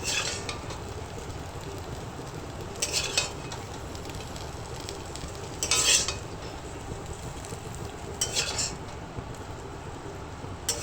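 Spicy potato and okra (aloo bhindi) being stirred in a frying pan, with a low steady sizzle broken by several sharp scraping clinks of a spatula against the pan, close up.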